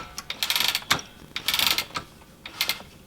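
Ratchet and pawl on the back beam of a handweaving loom clicking in quick bursts as the warp is wound on, close and fairly loud, with short pauses between winding strokes.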